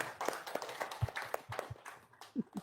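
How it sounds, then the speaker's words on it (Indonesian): A handful of people clap at a cheerful charity gathering with orphaned children in Indonesia, loose uneven claps scattered over a few seconds, fairly close, with some low voices and murmurs mixed in. "Tepuk tangan dong"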